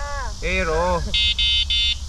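Three short, evenly spaced electronic horn beeps sound close by on a bike ride in South Korea, following a voice with a rising-falling tone.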